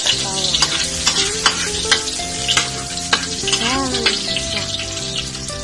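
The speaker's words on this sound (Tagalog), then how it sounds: "Habang mainit ang mantika, ilagay na natin ang bawang" Garlic drops into hot oil for menudo and fries with a bright, steady sizzle, punctuated by sharp stirring clanks and scrapes of a utensil against the pan, close up and without talk.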